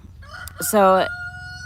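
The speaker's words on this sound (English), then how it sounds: "sorry about the roosters, guys. They're just doing what they do." A rooster gives one loud, close cock-a-doodle-doo crow lasting about a second, then a long, fading tonal tail, with a brief spoken word just before it.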